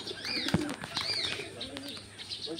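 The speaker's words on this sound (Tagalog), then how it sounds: "Sarap makipaglaro sa kalapati." Pigeons at a butterfly sanctuary in Bohol, Philippines, coo softly and flap their wings nearby. Faint chirps and wingbeats come over quiet background ambience.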